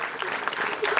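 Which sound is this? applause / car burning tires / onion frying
applause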